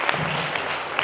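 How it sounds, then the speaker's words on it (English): A school audience claps for a pupil during a myopia awareness program, a brief, steady wash of many hands close by, with no talk over it. "So big round of applause for"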